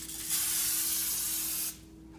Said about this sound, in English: after you foil your pan, you need to spray it with non-stick stuff.